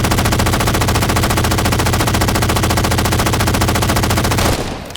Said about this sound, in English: The saw is like a minigun.